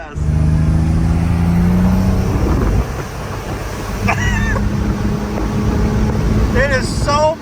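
A GMC Syclone truck engine revs at half throttle, a loud, deep drone that rises and falls inside the cab, with people talking over it and brief squeaky noises near the end.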